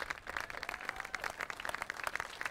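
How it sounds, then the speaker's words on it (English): An outdoor crowd at a trail groundbreaking ceremony gives Tim Donovan a round of applause: dense, steady clapping from many hands, faint and distant, continuing without pause. "Let's give Tim Donovan that round of applause that he deserves"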